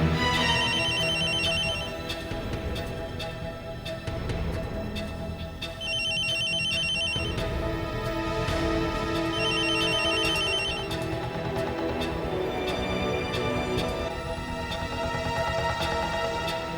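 In a Hindi TV drama scene, a telephone rings in repeated bursts of bright bell-like trills, set over a loud, continuous music bed that runs throughout. Nobody talks.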